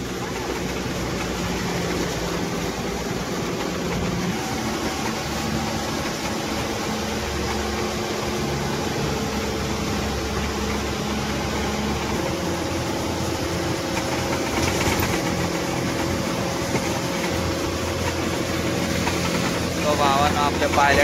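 An MSRTC bus engine labors up the monsoon ghat road to Matheran hill station, a steady low drone with continuous vibration from inside the bus, and someone talks over it throughout.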